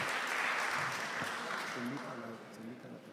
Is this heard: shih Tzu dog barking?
no